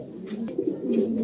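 A pair of moulting pigeons cooing close by in a low, throaty, continuous rolling murmur, with soft swells and no talking.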